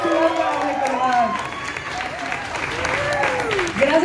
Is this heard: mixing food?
no